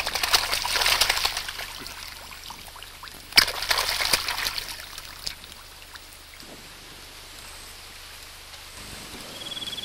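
Catfish splash in lake water as bread is tossed to them at an Australian tourist spot, a burst of close wet slaps and sprays that gradually settles into quieter trickling and dripping.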